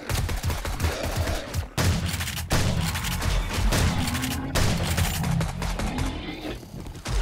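Dense, continuous gunfire from the zombie survival game 7 Days to Die during a heavily modded day-70 horde night, loud volleys and bursts running almost without pause, broken by a few brief gaps.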